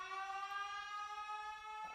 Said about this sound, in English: Put that siren on.